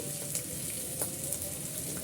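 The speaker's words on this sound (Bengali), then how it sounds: "আমি এটা বারবার উল্টিয়ে পাল্টিয়ে নেড়ে চেড়ে ভেজে ভেজে নিচ্ছি" Teasel gourd (kakrol) frying in a pan and being turned over and over: a soft, steady sizzle with a few faint stirring clicks, heard alone.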